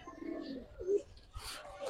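Full Jabra pigeons, among them hefty females, coo in low, repeated murmurs with a brief brighter flutter partway through, fairly close and over steady background noise.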